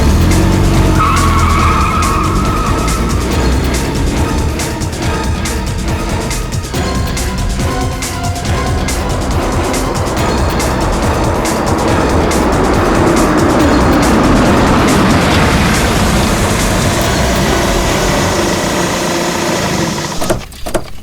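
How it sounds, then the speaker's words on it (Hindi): A car starts up and pulls away with long, loud tire skids and squeals over a revving engine, a continuous close roar that keeps building before it cuts off at the end. "निशा गाड़ी स्टार्ट करो।"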